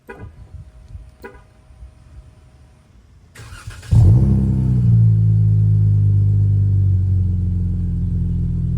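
A V6 Dodge Charger GT with a muffler-delete exhaust gets a warm start after quiet handling noises: a sharp crank and catch, then a loud, steady, throaty idle rumble close by.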